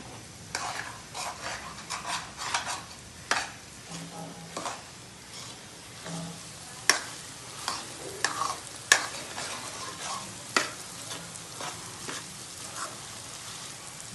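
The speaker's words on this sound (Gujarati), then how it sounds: "હા આ ઘીમાં જો શેકાવા માંડી છે હમણાં મસ્ત દાણાદાર છુટ્ટી થઈ જશે" Food roasts in hot ghee in a pan over a medium flame, giving a soft continuous sizzle broken by scraping stirs and light clinks, close and moderately quiet, with no talking.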